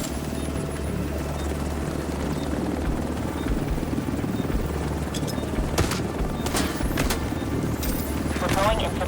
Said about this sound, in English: Chopper on site.